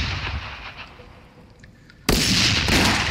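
Video game gunfire: after a quiet stretch of faint background sounds, a sudden loud burst of heavy shooting erupts and continues as a dense, sustained barrage, briefly dipping before resuming.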